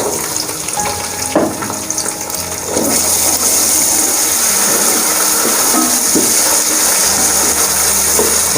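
Green peas tipped into hot oil with golden-browned onions for matar pulao start a sudden loud sizzle that jumps up partway through and then holds as a steady, dense hiss.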